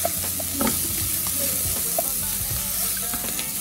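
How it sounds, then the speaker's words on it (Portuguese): Garlic, salt and parsley sautéing in a pan for a feijoada, a steady close sizzle of frying with scraping stirring strokes throughout and no talk. "E aqui eu vou refogar bastante alinho, bem refogadinho."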